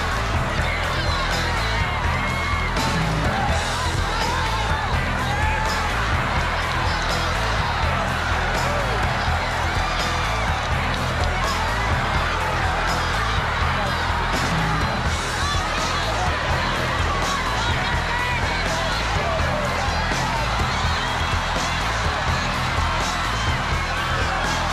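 Gaelic football match crowd with Kerry playing, a dense and steady roar of cheering and shouting that never lets up, close and loud, with whoops rising out of the mass of voices.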